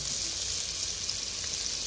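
Chopped scallions and curry frying in a pan at an outdoor cooking setup give a steady, soft, crackling sizzle that stays even throughout, quiet and uninterrupted, with no voices.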